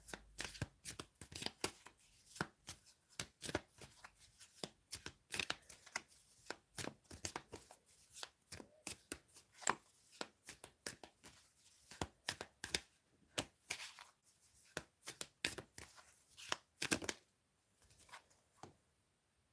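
A deck of tarot cards is shuffled and drawn in close, soft bursts of riffling and slapping, crisp flicks repeating irregularly with short pauses and no talking.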